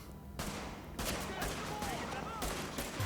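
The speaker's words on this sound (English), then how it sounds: "oh yeah, that was a grenade" Combat in The Division on a basketball court inside Madison Square Garden, a series of loud bursts and crackling gunfire that match a grenade going off, with a voice talking over the noise.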